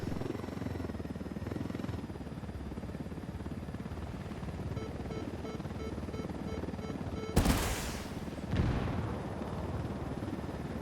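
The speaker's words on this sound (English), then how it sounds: "There may still be a helicopter up here." Helicopter in the video game Ghost Recon Wildlands, a low steady rotor drone overhead with two short bursts of gunfire-like noise.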